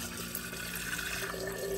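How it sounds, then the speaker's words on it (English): Water runs from a kitchen tap into a glass, a soft steady hiss that is fairly faint and continuous, with the pitch rising slightly as the glass fills toward the end. "let's fill up the glass with water."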